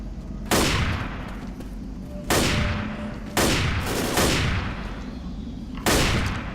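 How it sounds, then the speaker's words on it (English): Shotgun blasts from Left 4 Dead, five loud booming shots spaced about a second apart, each with a sharp crack and rumbling decay over faint game background. "I'll give the shotgun a try."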